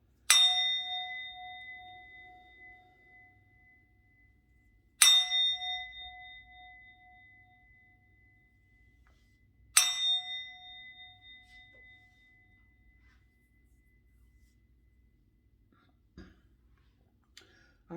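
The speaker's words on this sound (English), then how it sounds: "I'm going to ring the bell" A bell is struck three times, about five seconds apart, each a clear metallic ding that rings out and slowly fades in an otherwise quiet room.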